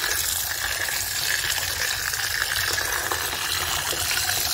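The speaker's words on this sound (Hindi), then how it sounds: "छलनी से मैं एक बार अच्छे से धो दूंगी, अच्छे से वॉश हो जाए" Used tea leaves are rinsed in a sieve under running water, a steady, close rush of flowing, splashing water that continues without pause.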